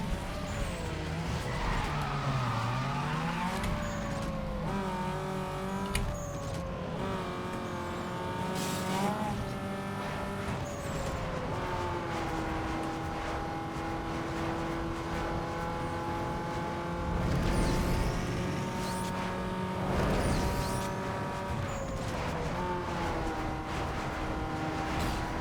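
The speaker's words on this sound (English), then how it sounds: "my car wants to spin out of control when I accelerate" Engine roars and revs steadily throughout a Need for Speed: Underground 2 street race, with rising and falling pitch as the car accelerates, plus tire squeals and skids cutting in; loud and continuous, no talking.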